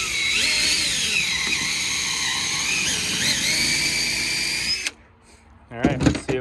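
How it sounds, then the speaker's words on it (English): A power drill whines loudly and steadily for about five seconds while drilling a hole through a snowmobile part, stops abruptly, then gives a few short bursts after a pause. "I just drilled a hole through it"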